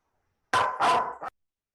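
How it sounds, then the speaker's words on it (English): A dog barks during an online public planning board meeting, sounding as a short burst of two or three close, fairly loud barks that ends abruptly, with no talk over it. "Excuse my dogs barking in the background."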